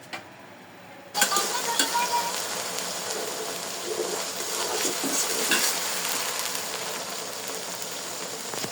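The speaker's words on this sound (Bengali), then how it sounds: "তেল গরম হচ্ছে, তেলের সাথে তেজপাতাও আছে।" Mustard oil heats in a pan with bay leaves, giving a steady close sizzle and crackle that starts abruptly after a quiet opening and carries on throughout without talk.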